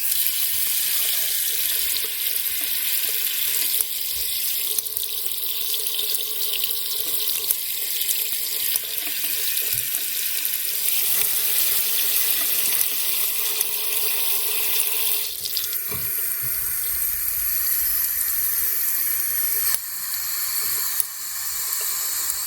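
Water streams steadily from a faucet fitted with a thick O-ring into a sink, a loud continuous close hiss that shifts in tone now and then, with no voices.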